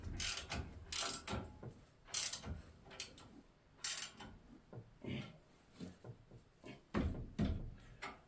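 A hand ratchet clicks in quick irregular bursts while tightening a bolt during a leveling kit install on a 2023 Ford F-150, close and crisp with short pauses between strokes and no talking.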